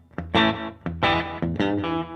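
Electric guitar run through an overdrive pedal, with a slapback delay in the amp's effects loop: three loud, sustained driven chords struck at a steady pace, each ringing briefly before the next, heard alone with no talking.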